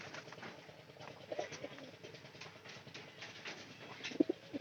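A white domestic pigeon coos softly in a couple of brief low calls, faint against steady background noise.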